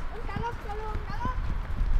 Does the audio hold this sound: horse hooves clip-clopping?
yes